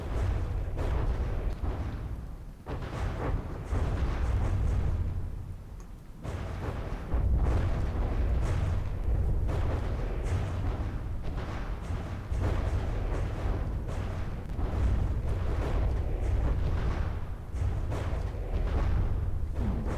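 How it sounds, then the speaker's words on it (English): Torpedoes strike a ship in the Minecraft-built game From the Depths, producing a continuous barrage of deep booming explosions and rumbling blasts that overlap densely and loudly for the whole stretch. "So the torpedoes are just coming in now."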